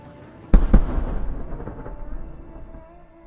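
A GMLRS missile strikes a Russian 122mm MLRS on a Kamaz 535 chassis. A sudden explosive blast, with a second crack right after, rolls into a long, fading rumble.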